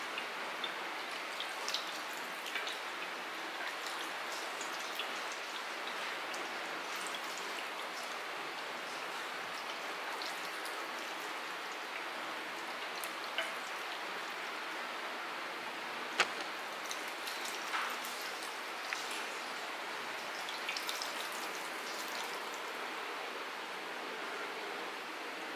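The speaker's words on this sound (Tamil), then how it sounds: "இப்போ நம்ம தண்ணி தெளிச்சுக்கலாம்." Water is sprinkled by hand over sprouting maize seeds in a home mulaipari tray, giving a steady soft patter of droplets like light rain, close and continuous with no voices.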